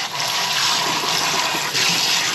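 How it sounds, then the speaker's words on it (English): Water running from a tap while mushrooms are rinsed for a pizza, a steady loud gushing hiss that continues throughout with one brief dip, no voices. "Rinse off these mushrooms this time,"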